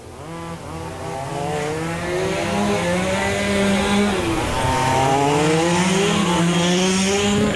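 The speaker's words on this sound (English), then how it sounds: "Look like the non-wing car might be struggling just a little bit there, Mike." Radio-controlled race cars roar around Lakeside Speedway, including a car running without a wing: a loud, sustained, high-pitched electric whine that rises and falls slightly as they circle close by, with no voices.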